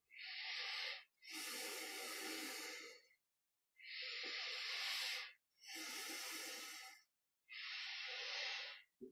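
Bhastrika yogic breathing during a guided meditation, five forceful rhythmic bellows-breath bursts of rapid hissing air through the nose, each lasting one to two seconds, separated by short quiet pauses, close and clear.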